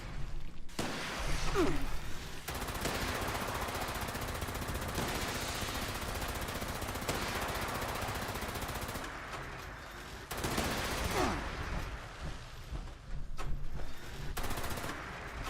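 Dense, continuous gunfire from a spore launcher in the Fallout 76 video game, a steady barrage running throughout with a few louder bursts near the start and end, with faint talk in the background.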